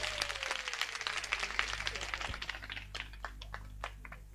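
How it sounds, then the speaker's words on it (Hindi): Audience at a devotional Krishna and Rukmini wedding celebration clapping, scattered sharp claps that thin out over a few seconds, with faint murmuring underneath. "एक बार सबके लिए जोरदार ताली बजा दी आप लोग।"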